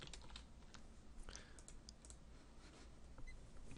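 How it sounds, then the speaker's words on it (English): A computer keyboard being pressed repeatedly, giving a steady stream of quiet, close clicking keystrokes that runs without pause and without speech. "I can press my entire keyboard and nothing will happen"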